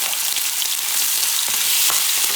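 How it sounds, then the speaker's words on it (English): Pork chops searing in a hot pan for braised Puerto Rican chuletas, a loud continuous sizzle and crackle with a few faint knocks, close up and with no speech. "And I'm going to put the pork chops."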